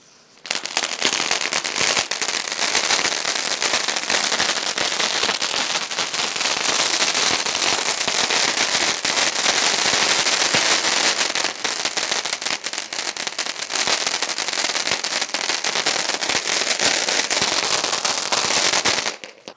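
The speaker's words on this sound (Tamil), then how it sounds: "இந்த வருஷம் பட்டாசாக நம்ம வெடிக்க போகிறோம்." A Diwali mushroom firecracker from Sivakasi goes off at night in continuous dense crackling and popping bursts, loud and close, sustained for nearly twenty seconds without pause, like a long string of firecrackers.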